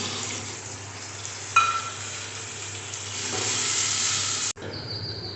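Yogurt-thinned water hits a hot pan of chicken chaap, setting off a loud, continuous sizzle and hiss that holds steady for several seconds before cutting off abruptly, with no talking.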